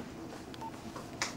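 A mobile phone number being dialed, several short keypad tones beeping one after another, faint and close against a quiet room.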